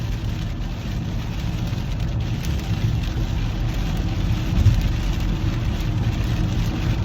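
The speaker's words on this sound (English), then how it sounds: "I don't know if you can hear the rain coming through again." Steady rain falls outside, a continuous soft hiss over a low rumbling bed, constant in level and heard alone without voices.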